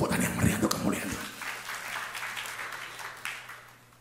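A church congregation breaks into applause after a preacher's brief words; a broad burst of clapping swells and then gradually fades away.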